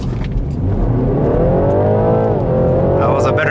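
A BMW G20 330e plug-in hybrid launches hard from a standstill in sport mode with traction control engaged, its drivetrain whine and engine note climbing steadily in pitch, loud and close.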